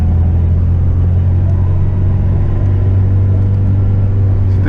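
Peugeot 205 Turbo 16 engine heard from inside while driving, a loud steady low rumbling drone with slight variation as gears change and no talk.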